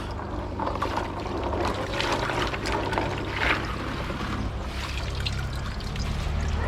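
Water pouring and splashing over koi pond filter media being rinsed outdoors, a steady close gush with trickling and dribbling, no speech.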